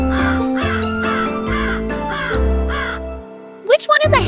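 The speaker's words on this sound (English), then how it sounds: "Yes, it is a crow." A crow caws six times in a steady, evenly spaced series over a background music bed, loud and near, followed by a brief bright jingle at the end.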